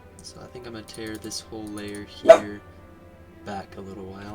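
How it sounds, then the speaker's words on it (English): A dog gives a single sharp bark in the background, loud and brief, cutting through steady talk from a man indoors. "I apologize for the barking in the background."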